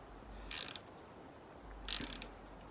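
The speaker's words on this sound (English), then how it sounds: "I have this ratchet. It's a little small one, so I can't get it real tight." A small hand ratchet clicks in two quick bursts while tightening a 7mm bolt on the exhaust manifold of a Mini Cooper S R56, close and crisp against a quiet background with no talk.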